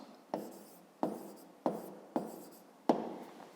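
Pen or pencil writing on paper while solving a fifth-grade math exercise, with five sharp tapping strokes each trailing off, close and clear with no talk.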